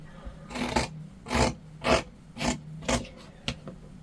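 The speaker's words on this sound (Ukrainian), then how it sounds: "Зараз буду різати" Scissors cutting fabric for a dress, six or seven crisp rhythmic snips at a steady pace, close and clear over a quiet room hum.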